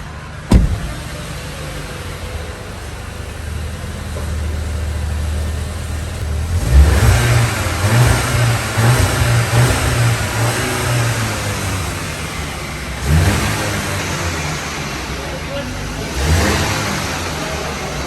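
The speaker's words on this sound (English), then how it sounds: "So that's the exhaust note of the Skoda VRS 245." A Skoda VRS 245 engine starts with a sharp crank, settles into a steady idle, then revs up in a few throaty bursts before easing back down.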